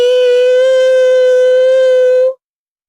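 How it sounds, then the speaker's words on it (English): A harsh electronic alarm sounds from an airport check-in computer terminal, one loud, sustained, buzzy tone that holds steady and then cuts off abruptly. "It was a harsh, urgent, double-toned siren that echoed from the computer terminal."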